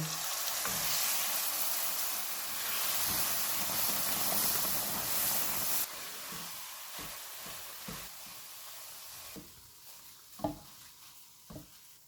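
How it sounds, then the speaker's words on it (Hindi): Roasted gram flour for besan halwa sizzles loudly in a pan until milk is poured in, when the hiss drops abruptly to a softer bubbling broken by several thuds and scrapes of stirring. "अब इसमें 1 कप दूध डालेंगे और मिक्स करेंगे।"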